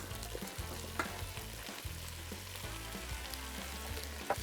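Onions and garlic, then leeks and carrots, fry in a pot with a soft, steady sizzle and occasional stirring clicks, close by and quiet, with no one speaking.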